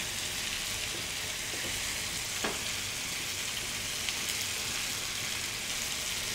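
Chicken tikka fries in a pan with a constant, even sizzle, soft and close, with a few faint crackles and pops scattered through.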